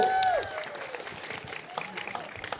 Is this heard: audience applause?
yes